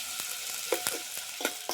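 Chopped onion tempering in hot oil in a pan gives a steady close sizzle broken by a few sharp crackles and pops over a short stretch.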